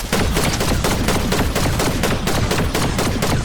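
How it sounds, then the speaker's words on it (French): Video game gunfire, dense rapid bursts of shots firing continuously and loud, with no talking. "On me tire dessus."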